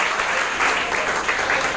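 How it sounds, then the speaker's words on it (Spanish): A church congregation claps together in a steady, dense wash of applause, loud and continuous throughout with no distinct individual claps standing out. "Dale un fuerte aplauso al Señor"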